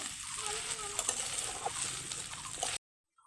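Rice fries in a pan with cashews and raisins for basanti pulao, giving a soft, close sizzle with light stirring scrapes that stops abruptly before the end.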